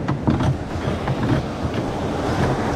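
The engine of a Filipino bangka boat runs with a steady low rumble and light rhythmic pulsing, close by and fairly loud, partly buffeted by wind noise.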